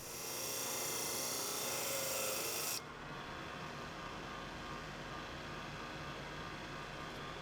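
Disc sander beveling the ends of wood strips to 60 degrees for a wooden puzzle, a loud steady whirring grind that cuts off abruptly partway through, leaving a lower motor hum running down.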